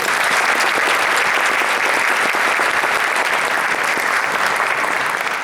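Steady, full applause from an audience at a 2016 community service awards event, given for the event's organizer, a close, even roar of many hands clapping with no pause.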